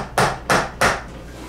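Three quick, hollow knocks as a door bottom seal is tapped onto the bottom edge of a door, evenly spaced and close, each thud short and solid with nothing else around it.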